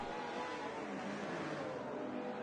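A hypercar engine in a racing video game drones loudly and steadily for a couple of seconds as it accelerates, with no talking.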